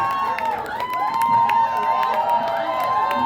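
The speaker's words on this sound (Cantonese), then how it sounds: "我都想大家俾多啲掌聲" An audience at a fan-meeting concert and birthday celebration claps and cheers, a broad crowd wash with scattered voices and shouts under a sustained tone.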